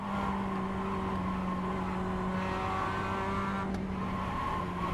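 A Mazda MX5 circulates Winton race track, its engine a steady, continuous drone with sustained tonal harmonics, heard from onboard at a constant moderate loudness with no talking.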